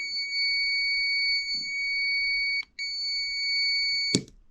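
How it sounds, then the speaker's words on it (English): A multimeter's steady, piercing continuity beep holds for a few seconds while testing an RC car switch, cuts out briefly, then resumes, ending with a sharp click. "once it beeps, that means there's a connection"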